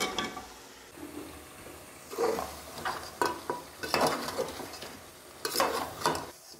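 Cut-up beef trotters stirred into fried masala in a large cooking pot, producing repeated scraping clatter and wet sizzling in uneven bursts, close and moderately loud, with no talking.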